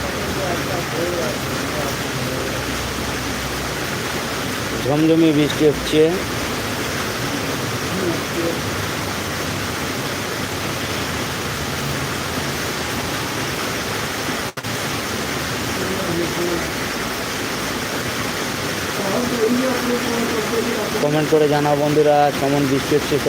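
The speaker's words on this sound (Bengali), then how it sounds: "প্রচণ্ড বৃষ্টি হচ্ছে বাইরে" Heavy rain pours down outside as a steady, dense broadband hiss that continues throughout, with a voice talking briefly near the start and again near the end.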